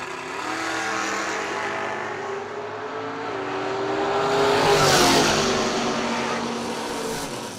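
A Dodge Colt and an S10 pickup in a drag race, engines droning steadily and then swelling louder around the midpoint as the cars pass before fading slightly.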